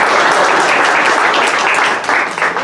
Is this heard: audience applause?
yes